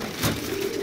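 A young pigeon with a milky tail coos once in a dovecote, a short, soft, low call heard close and alone.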